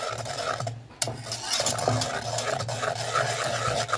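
Boiled gulaman being transferred from a pot into a container, with scraping and rubbing of a utensil against cookware and a few light clinks.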